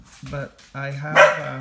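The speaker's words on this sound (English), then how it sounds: "sorry for the dog barking." A dog barks twice, loud and close, while someone talks about a knife, the barks cutting across and overlapping his speech.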